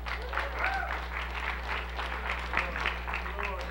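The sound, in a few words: applause and shouting from church congregation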